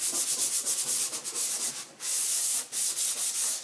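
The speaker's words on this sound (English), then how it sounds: "clean it, but then scuff it up a little bit with sandpaper just so it has something to stick to" Sandpaper scuffing a car body panel on a Nissan 240SX: steady, close, rhythmic back-and-forth rasping strokes that run almost without a break, with one short pause midway.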